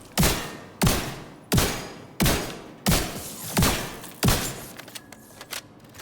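Seven heavy, evenly spaced gunshots from an assault rifle in the video game The Division 2 ring out about 0.7 seconds apart, each loud and booming with a decaying tail, followed by quieter clicks and faint game sounds.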